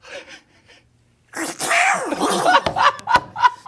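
A man imitates Donald Duck's sneeze, a quick burst of strained, squawky nasal noise followed by a few sharp explosive bursts, loud and close after a moment of near silence.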